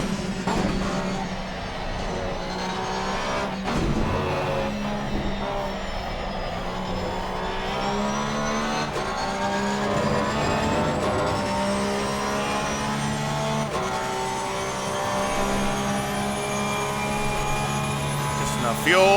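A 2021 Porsche GT3R race car in Assetto Corsa Competizione at Suzuka, heard as a continuous high engine whine that climbs and drops through gear changes, with someone talking over it.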